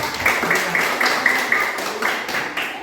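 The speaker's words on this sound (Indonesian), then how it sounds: "tepuk tangan yang keras untuk kelompok" Loud classroom applause for a student group during a teaching practice session, steady dense clapping from many hands lasting throughout, with a few faint voices mixed in.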